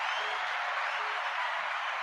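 An audience on a live boxing talk show applauds a guest, a steady, even wash of clapping that holds at one level without any voices.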